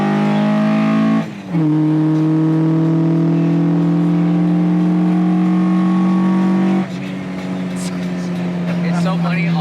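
A stationary Toyota's engine revs hard and holds a loud droning whine, drops briefly, then roars again before settling into a steady high drone.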